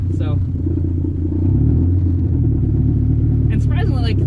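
A modified 1986 Shelby Omni with over 300 wheel horsepower drives along, its engine giving a steady loud rumble that rises slightly as it goes, with brief voices heard at the start and near the end.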